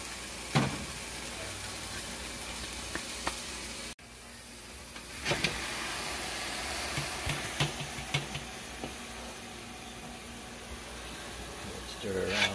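Beef fries in a pot seasoned with cumin and oregano, a soft sizzle under scattered clinks and scrapes of stirring, with a voice talking over it.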